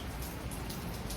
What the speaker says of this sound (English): It just stopped raining. It's just drizzling now.